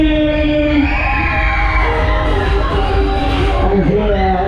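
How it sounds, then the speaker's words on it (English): Riders on the Sea Storm fairground ride at Hull Fair yell and scream together in a loud, continuous wash of voices. Heavy ride and crowd noise fills the background. "Somebody scream!"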